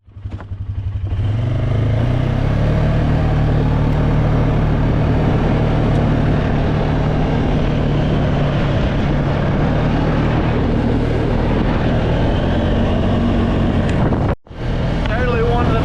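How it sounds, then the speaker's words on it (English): A four-wheeler engine droning loud and steady while riding out to a wheat field, a constant close rumble that holds for the whole stretch with a brief cutout near the end. "I love riding the four-wheeler."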